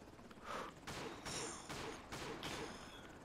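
Pistol gunfire from the Tekken fighting game, a handful of sharp, loud shots spaced about half a second to a second apart, each with a bright noisy burst over steady background game noise.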